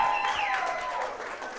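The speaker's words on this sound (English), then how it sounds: "Wow, a cheering section." An audience at a national student showcase claps and cheers, a dense wash of applause with a high whistling tone gliding downward over it at the start.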